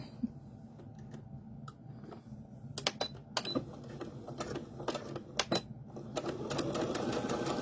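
A sewing machine stitches fabric for a wrist key holder in short runs, its needle clattering in quick rhythmic bursts with sharp ticks between, close and fairly quiet, ending in a longer steady run.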